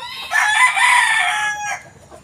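A Boston Roundhead rooster lets out a single loud, close crow lasting over a second, rising and then trailing off, with no other sounds around it.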